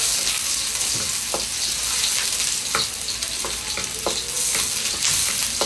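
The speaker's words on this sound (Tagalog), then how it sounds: "Lahat gigisahin lang." Garlic and onion sautéing in a pan for a Filipino dish, a steady loud sizzle broken by repeated scrapes and clinks of a stirring utensil, with no talk.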